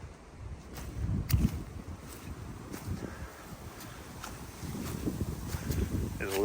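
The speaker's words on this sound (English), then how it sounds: "it's a little breezy today." Breeze on the Conley Cove Trail in North Carolina's Linville Gorge Wilderness, heard as a steady low rush of wind buffeting the microphone, swelling a little toward the end with faint rustling underneath.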